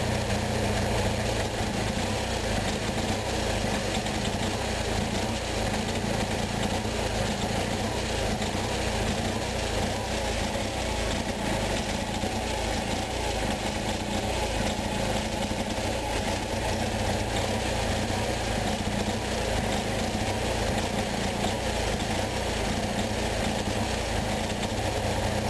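A small Onan engine idles steadily and close by, its even mechanical drone wavering slightly as the speed surges and settles, with no talking over it.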